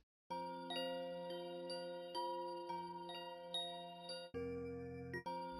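A Chimes 1 sample in a software sampler synth rings out as bright bell-like struck tones, repeating in a steady sequence of overlapping chimes with long sustain, alone and clear.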